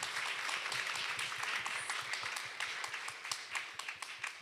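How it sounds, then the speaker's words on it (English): Audience applauding panelists at the close of a panel on campus and community wastewater surveillance testing; steady, fairly faint crowd clapping with dense overlapping claps throughout, no one speaking. "How about a round of applause for them?"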